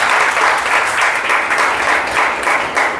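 Sustained applause from a large audience at a congratulatory gathering, a dense, even wash of clapping that fills the whole stretch at steady loudness with no voices over it.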